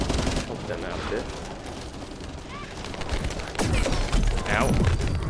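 Rapid automatic gunfire bursts rattle through a sci-fi shooter battle in The First Descendant, layered with game effects and a louder burst near the end.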